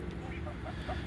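Leghorn hens cluck softly and briefly in a backyard coop, faint short clucks over a low murmur with a voice nearby.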